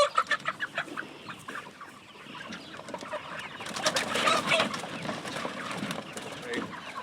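A flock of Cornish Rock Cross meat chickens, nearly eight weeks old, clucks and murmurs continuously at moderate distance on a farm, a soft busy chorus that swells midway.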